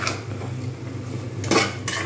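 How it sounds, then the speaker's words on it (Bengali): A metal spoon scrapes and clinks against a pan as coriander, cumin and garam masala powders are stirred into mutton curry with papaya and potato, in a few short, close strokes. "প্রত্যেকবার একটু করে নাড়িয়ে দেবো"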